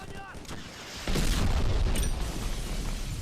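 A grenade blast in the first-person shooter BLACK on Xbox One bursts in loud and broadband about a second in, then rumbles and echoes in a sustained roar to the end, following a quieter stretch of game noise and voice.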